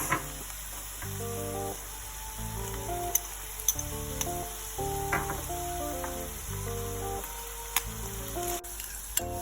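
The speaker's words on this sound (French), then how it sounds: "venez verser vos oignons déjà rissolés dans la poêle. Vous devez bien mélanger le tout pendant 2-3 minutes" Already browned onions are stirred in a hot frying pan for a börek filling, sizzling steadily with scraping stirs while music plays underneath.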